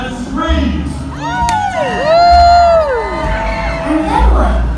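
A large crowd at the Polynesian Cultural Center in Hawaii screams, whoops and cheers loudly and continuously, with rising shouts and excited voices swelling throughout.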